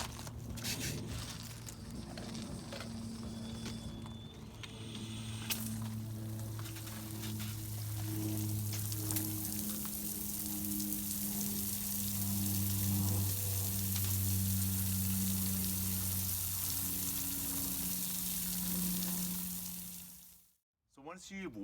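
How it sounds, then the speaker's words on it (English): Water sprayed over pruned rose plants in a garden, a steady hissing, splashing wash that runs almost continuously for about twenty seconds, with a low drone underneath, before cutting off abruptly near the end. "Once you've watered your plants and you've allowed enough time for the water to dry"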